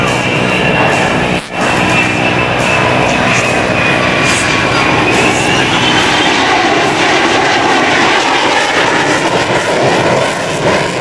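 F-14 Tomcat jet accelerating on full afterburner at the 2004 NAS Oceana airshow, a loud continuous roar that swells and shifts in pitch as it passes, with a faint announcer voice underneath.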